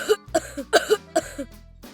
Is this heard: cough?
yes